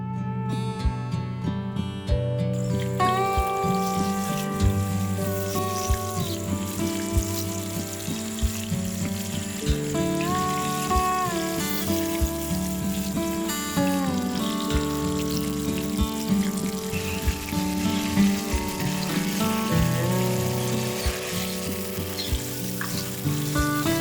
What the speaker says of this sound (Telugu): నూనె మరిగాక కలిపి పెట్టుకున్న మాంసం వేసుకోవాలండి నూనెలో